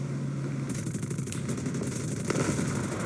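Aircraft engine in a combat flight video game after being hit and losing thrust, a quiet droning, sputtering hum with a rougher burst partway through, steady and fairly faint.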